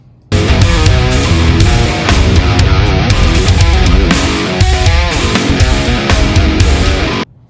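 A heavy, distorted electric guitar through a Line 6 Helix Revv amp model plays a driving riff at steady loudness for about seven seconds, starting and ending sharply.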